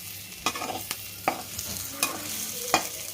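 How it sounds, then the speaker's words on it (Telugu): Ivy gourd curry spiced with dry ginger is stirred in a pan as it fries, with a steady soft sizzle broken by about five sharp spatula scrapes and taps, close and alone. "ఇది ఇంకా ఒక 4-5 నిమిషాలు కలుపుతూ ఉండాలి."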